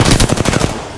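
Rapid automatic gunfire in the battle royale game Apex Legends, a loud close burst of about ten evenly spaced shots within a second, alone without talk.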